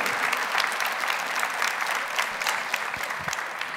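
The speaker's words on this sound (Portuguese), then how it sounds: "Vamos aplaudir as nossas irmãs," A church congregation applauds, dense continuous clapping from many hands that holds steady and fairly loud throughout.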